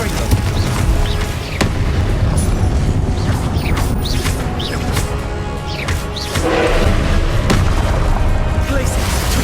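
Confringo blasting spells explode repeatedly in a Hogwarts Legacy fight, loud thumping booms and crackling bursts landing in quick irregular succession amid dense combat noise, with voices shouting over the action.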